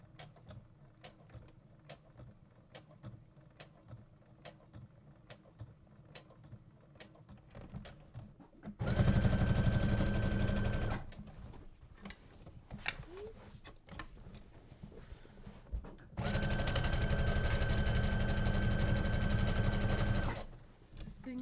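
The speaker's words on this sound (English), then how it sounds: "I'm going to go ahead and back stitch over this next handle here." A sewing machine back stitches across the handle of a tote bag in two loud, steady bursts of whirring, about eight and five seconds long, with quieter mechanical clicks and handling noise between them.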